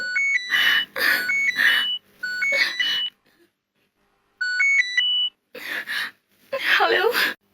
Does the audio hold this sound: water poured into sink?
no